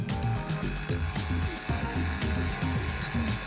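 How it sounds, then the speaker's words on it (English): A Dremel fitted with a diamond-coated bit grinds the airlines on a Matchbox K5 racing car transporter model truck, giving a close, continuous buzzing whine whose pitch wavers as the bit bites. "So I start off with this diamond coated bit in the Dremel, just to try and take the thick off the airlines."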